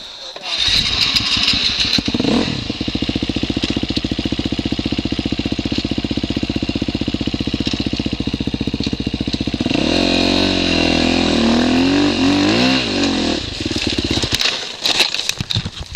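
Dirt motorcycle revving hard as it climbs through a deep rut on a trail, a loud, steady engine drone rising in pitch mid-way before easing off and cutting out near the end.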